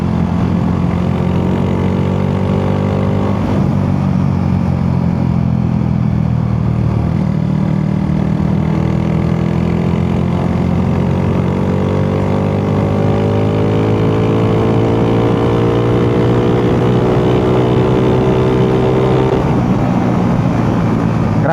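Honda Wave 125 FI motorcycle with a tuned ECU, injection mapping and ignition timing changed, on a short test ride: a loud, steady engine drone whose pitch rises and falls through gear changes, with constant wind rush.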